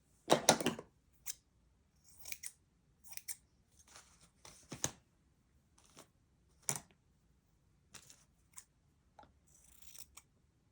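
Scissors snip through the seam of cheesecloth in a quiet room, with one loud opening cut followed by a scattered run of short, crisp snips and soft rustles.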